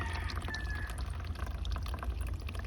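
Water drains out through a single punched hole in a Dollar Tree planter, a steady soft trickle and drip running throughout at moderate level with a low hum beneath.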